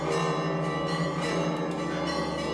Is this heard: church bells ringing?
yes